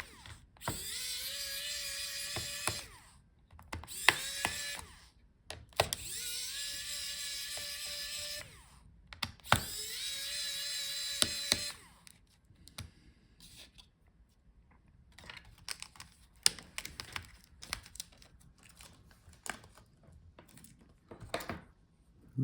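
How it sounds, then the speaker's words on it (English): Screws come out of a Lenovo ThinkPad P1 Gen 3 laptop under a small power screwdriver, heard as four close, evenly spaced whirring bursts, then quieter scraping and clicking handling sounds. "So unscrew all the screws."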